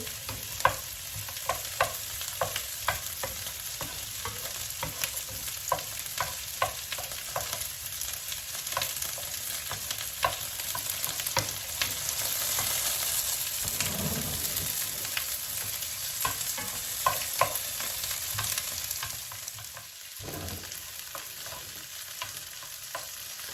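Green chilies and garlic frying in a pan while being stirred, for a Sylheti kachki shutki vorta, a continuous close sizzle broken by regular scraping strokes of the spatula and a few louder clacks.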